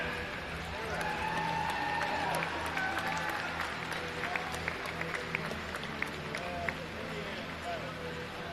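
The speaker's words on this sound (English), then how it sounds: "a round of applause for your second place team" A crowd at a junior swimming championship applauds the second-place team in a sustained, even wash of clapping across a large indoor natatorium, with an announcer's amplified voice over it.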